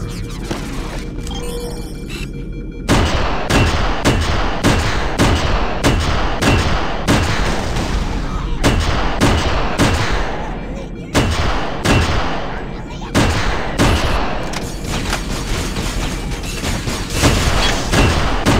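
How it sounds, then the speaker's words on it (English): Repeated heavy booms and gunfire-like blasts in the Halo SPV 3.2 video game, on the Pillar of Autumn level, follow a quiet opening and then hit loud and steady, one after another, for most of the stretch. "That explosion came from inside."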